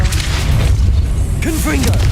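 A Repulso spell blasts in the Hogwarts Legacy video game, a loud, dense booming burst that fills the short stretch, with a voice talking over the game sound.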